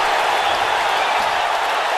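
A live wrestling crowd in Trenton cheers and applauds continuously, a dense, loud, steady roar of many voices and clapping filling the arena.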